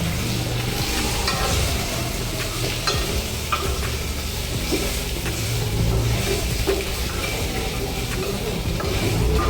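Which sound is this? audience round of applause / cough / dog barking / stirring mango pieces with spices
stirring mango pieces with spices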